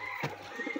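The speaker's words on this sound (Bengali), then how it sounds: "এই যে এখানটা কবুতর" Pet pigeons in a home loft coo softly and close by in a brief, low burbling call, with no voices.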